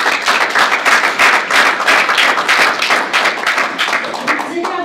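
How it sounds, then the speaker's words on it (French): Audience applause at a regular regional council meeting of the MRC d'Autray in Quebec, dense clapping sustained for about five seconds at steady loudness, with some voices mixed in. "je pense que vous pouvez vous applaudir"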